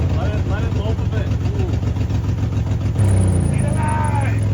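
A Toyota pickup truck's engine idles with a low steady rumble and faint rhythmic pulsing, while voices talk over it and the engine note rises slightly near the end.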